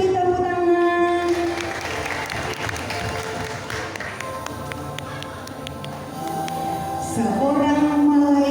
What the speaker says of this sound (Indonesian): Mari malaikat, mari kita beri tepuk tangan.